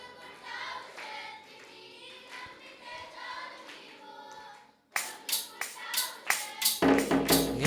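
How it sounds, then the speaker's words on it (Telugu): A church congregation clapping hands in unison, a steady rhythmic burst of many hands that starts abruptly after a stretch of fainter, scattered sound and grows louder and denser toward the end. "చప్పట్లు కొడదాం"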